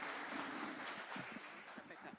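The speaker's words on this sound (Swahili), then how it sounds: "Tunaweza tukamkaribisha kwa makofi." Faint applause from an audience welcoming a speaker at a presidential event at a pharmaceutical factory in Athi River, a brief rustling wash of clapping with a voice talking over it.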